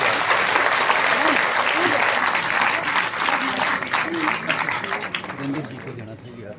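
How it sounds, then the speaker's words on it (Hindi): Audience at a felicitation ceremony for meritorious students in Shimla applauding guests, a loud sustained burst of clapping that gradually thins out and fades, with an announcer's voice speaking over it. "मैं चाहूंगा तमाम मेहमानों के लिए एक बार जोरदार तालियां होनी चाहिए।"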